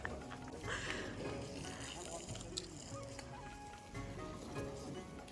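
A chicken in a village in Deora, Uttarakhand, clucks and squawks at close range through a steady, busy outdoor background, with people talking over and around it.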